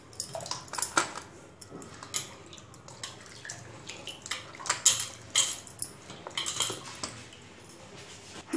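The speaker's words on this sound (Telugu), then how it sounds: "ఈ కట్ చేసుకున్న ముక్కలని మళ్ళీ ఒకసారి నీళ్ళలో వేసి బాగా కడుక్కోవాలి." Cut sweet potato pieces being washed by hand in water in a metal vessel, with close irregular clinks, splashes and sloshing bursts, no talk.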